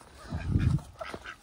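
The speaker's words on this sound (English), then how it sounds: "Oh my God, little duck." A duck lets out a brief, hoarse honking quack up close, a loud burst followed by a couple of fainter squawks.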